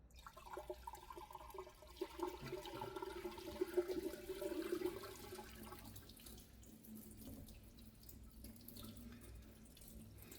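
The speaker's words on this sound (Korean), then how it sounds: "이 상태에서 이제 물을 내린다고 가정을 하고 물을 한번 부어 보겠습니다." Water poured by hand into a sealed toilet bowl with its gasket fitted airtight, a steady close splashing and gurgling for about five seconds that then fades into a softer trickle and drain.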